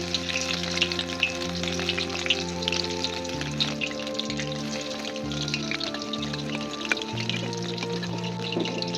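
Steady, dense sizzling of battered fritters frying in hot oil, close and continuous, with a low humming drone underneath and no voices.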